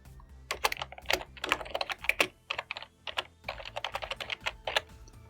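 Someone types a document title on a computer keyboard, with quick uneven bursts of close, crisp key clicks and short pauses between words.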